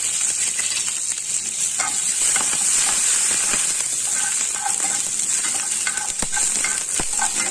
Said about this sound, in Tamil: கருகப்பிள்ளை ரெண்டு கொத்து கருகப்பிள்ளை சேர்த்துக்கலாம் பொரியட்டும்